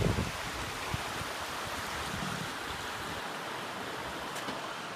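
Steady rushing of Wilson Creek water at a campsite in the Big Bay area, a continuous broadband wash that stays even throughout, fairly close, with no talk.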